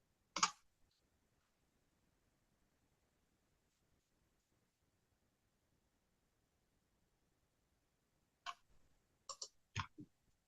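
Computer mouse being right-clicked while working on measures in a spreadsheet data model: a sharp click near the start, then after a long quiet gap a short cluster of three or four quick clicks, close and crisp.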